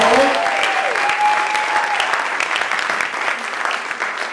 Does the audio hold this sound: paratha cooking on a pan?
no